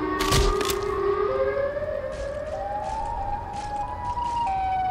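Siren Head, a towering creature from Trevor Henderson's horror art, sets off a loud siren wail in a video game, with a sharp burst at the start and then rising, stepped mechanical tones held steadily throughout.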